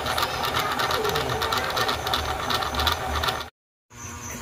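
Portable sewing machine stitching steadily at close range, a fast continuous mechanical whir with rapid clicking, running about three and a half seconds before stopping abruptly, then a brief faint resumption.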